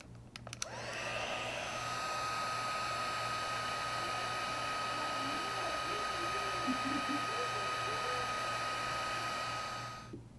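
A handheld heat tool blasts steadily from underneath to melt embossing powder on a craft layer, a loud continuous whooshing roar with a whining motor tone, starting after a brief click and ending abruptly.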